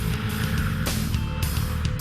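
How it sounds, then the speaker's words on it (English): A 2006 Corvette Z06 engine roars loudly through a titanium dual exhaust, a dense, continuous rumble with brief surges as the throttle is worked. "Wrap the throttle and the best music this side of a NASCAR motor pours out of the titanium dual exhaust"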